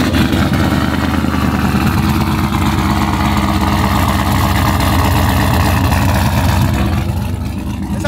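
A supercharged 2650 GMC Sierra pickup engine runs loud and close, a steady rumbling idle with a throbbing low pulse that holds the whole time, no voices over it.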